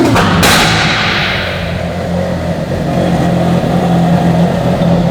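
A loud car engine revs hard close by with sharp exhaust backfire pops at the start, then settles into a steady, throaty idle rumble; no speech.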